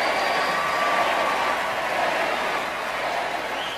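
A packed audience in a pop culture venue applauds and cheers after a performance of a cherished Catholic hymn, a dense sustained wash of clapping that fades slightly toward the end, with no speech.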